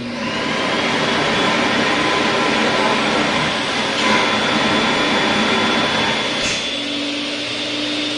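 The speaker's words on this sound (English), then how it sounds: "That's the sound of the vacuum." A garage vacuum cleaner runs continuously nearby, cleaning a 2021 Dodge Durango RT, a loud steady whooshing roar with a faint whine, its pitch shifting slightly near the end.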